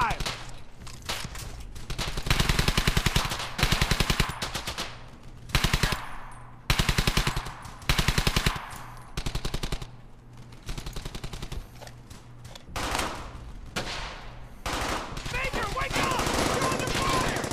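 Sustained automatic machine gun fire in the World War II shooter Brothers in Arms: Hell's Highway, loud, close bursts of rapid shots repeating across the scene, with battlefield noise and brief voices between volleys.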